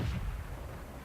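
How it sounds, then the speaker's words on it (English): A tank cannon shot fired by a Panzer 5 M10 in World of Tanks on the Murovanka map: one heavy, booming blast at the start that rolls off into a low, fading rumble, with no talk. "That Panzer 5 M10 starts to shoot at me, hits me once, doesn't do much damage"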